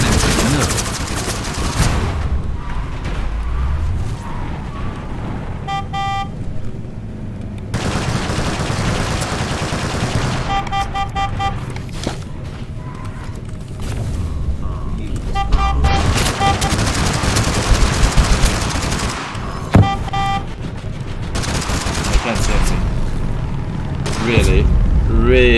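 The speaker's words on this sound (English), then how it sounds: "These flashbangs." Flashbangs and gunfire in Totally Accurate Battlegrounds: loud bursts of automatic fire and sharp bangs, with ringing tones after the blasts, over a long stretch of game noise and talk.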